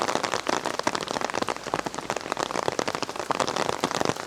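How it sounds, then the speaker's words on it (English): Dense raindrops patter continuously on an umbrella, a close, busy, irregular tapping with no voices, on a walkway in Kato Paphos, Cyprus. "I have to apologise for the sound of all the raindrops."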